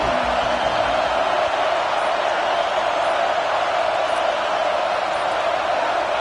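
A home crowd roars at an American college football game as the defense tries to get off the field on third down, a dense, loud, sustained wall of cheering that stays steady throughout.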